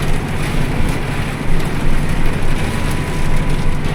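Rain mixed with a little hail drums on a tractor during strip tilling in wind, a loud, dense, steady wash of noise over a low engine rumble.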